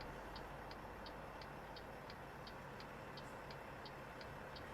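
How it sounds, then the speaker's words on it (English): Railroad crossing bell in American Truck Simulator, a steady series of evenly spaced metallic dings about three per second, moderately distant and faint over a continuous low rumbling game ambience. "it's not an absolute requirement to stop the bell sound when the bars come down"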